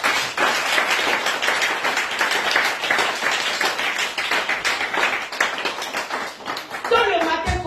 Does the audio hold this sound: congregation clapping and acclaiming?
yes